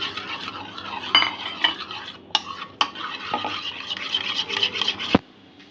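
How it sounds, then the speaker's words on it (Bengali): Butter being stirred in a bowl for a mango tea cake, a steady scraping and clinking of utensil against the bowl with a few sharper knocks, close and alone before a brief quiet at the end. "মাখনের সঙ্গে মিশিয়ে নেব"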